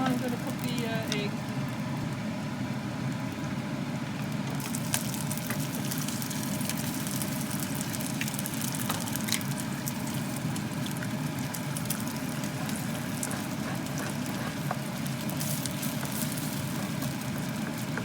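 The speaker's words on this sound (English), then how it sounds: "And now I'm going to cook the egg." An egg frying in a hot pan while bacon and egg fried rice is cooked gives a steady, loud, unbroken sizzle that lasts the whole stretch.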